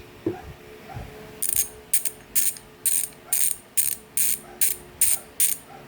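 A bicycle hub with six pawls and three teeth buzzes with rapid freewheel clicking in about ten short, evenly spaced bursts, loud and close, each a bright ratcheting whirr.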